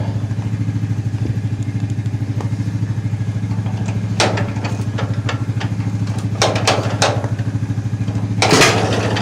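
A John Deere tractor engine runs with a steady, close, pulsing idle, joined by clinks and metallic clatter of handling around it.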